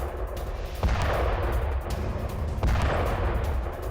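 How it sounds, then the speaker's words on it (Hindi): Air strikes and bombing in Gaza's Rafah and Khan Younis: heavy booming blasts strike twice, about two seconds apart, over a continuous rumbling, crackling background of distant fire. "राफा और खान यूनिस में एयर स्ट्राइक्स जारी हैं।"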